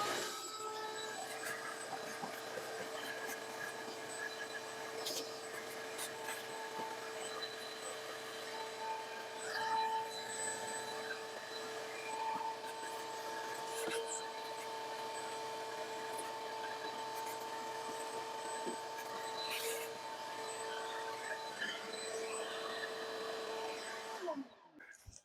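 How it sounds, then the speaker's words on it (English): A vacuum cleaner sucks lint out from under the heater inside a Samsung clothes dryer, a steady droning whine with rattling and knocking as the nozzle moves, running continuously before shutting off at the end. "Okay, so that's all vacuumed out."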